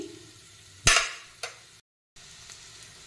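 Chopped garlic from four or five cloves drops into about a tablespoon of oil in a pan: a sharp burst of sizzle, a smaller second crackle, then faint frying in near silence.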